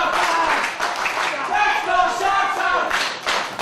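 A wrestling crowd at an Irish Whip Wrestling show roars and claps together, a loud sustained wash of cheers and applause with shouting voices rising through it.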